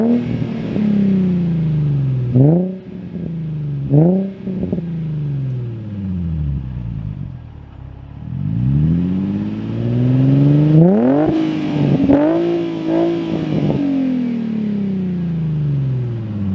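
Nissan 350Z with an ISR Y-pipe and single GT exhaust revving out in the open, loud and near, its note climbing and falling in several quick blips before longer sustained pulls toward redline.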